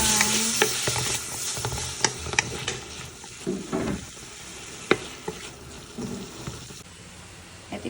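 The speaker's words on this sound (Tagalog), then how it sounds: "Ayan, magluluto tayo ng sinigang." Pork pata sinigang cooks in a pot, with scraping stir strokes and clinks of a utensil over a soft bubbling simmer, set outdoors in a countryside spot by a stream.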